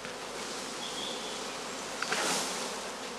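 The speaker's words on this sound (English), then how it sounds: "He fills each skep with about 2 wooden platters full of cast bees." A swarm of cast bees being poured from wooden platters into empty straw skeps: a dense, steady buzzing hum close by, briefly swelling with a soft rustle and thump as the bees tumble in.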